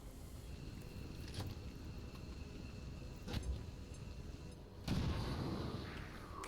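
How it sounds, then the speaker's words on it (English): In a sci-fi shooter, a grenade bursts into a loud boom near the end, after a couple of sharper gunfire-like cracks over a steady background of battle noise. "I think I'm going to just lob a grenade at this guy."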